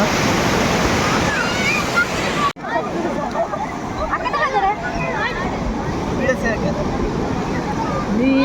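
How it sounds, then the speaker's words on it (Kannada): Ocean waves surge and break on the beach at Honnavar in a continuous loud wash, with wind buffeting the microphone and voices nearby. "ನೋಡಿ ಹೆಂಗೆ ಹಲೆಗಳು ಬರ್ತಾ ಇದೆ"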